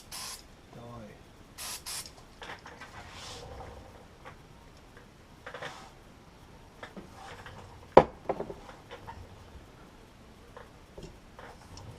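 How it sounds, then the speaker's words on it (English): Short bursts of carburetor cleaner hiss from a spray can in a quiet workshop, several brief faint spurts scattered among small clicks and handling sounds, with one sharper burst midway. "I can zap him with the old carb spray."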